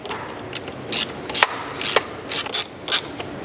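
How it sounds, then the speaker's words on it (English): Hose clamps being tightened on a silicone post-MAF intake hose of a 2013-21 Subaru BRZ / Toyota FR-S / GR86, a close series of quick ratcheting clicks in short irregular bursts, with no talking. "Then I can just go back and get these clamps all tightened up."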